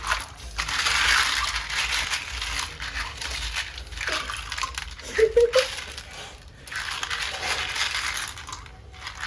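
Stones for a new aquarium tank are washed in water, with gritty crunching and clacking as they are rubbed and jostled together, along with splashes, in short close bursts.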